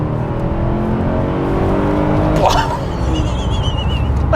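Mercedes-Benz W210 E60 AMG engine pulling hard in first gear up to the rev limiter, a loud steady rising drone heard from inside the car, with someone talking over it.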